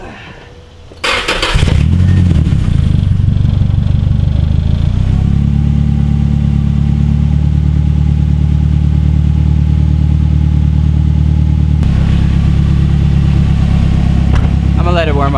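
Nissan 240SX S14 with a turbocharged SR20DET engine, just fixed for a boost leak, cranks and catches within a second, then settles into a loud, steady, slightly rough idle that runs on without a break.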